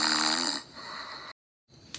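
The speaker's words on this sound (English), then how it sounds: "He is snoring." A man snores in short rasping breaths, close and loud at first, then fading before a brief pause and a quick resumption.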